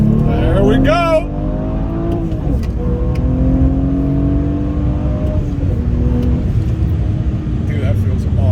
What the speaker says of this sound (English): So let me show you the anti-lag real quick.